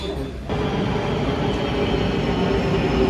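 Subway train on the Istanbul metro, a steady loud rumble and rolling hum of the carriage in motion, swelling after a brief dip, with faint voices underneath.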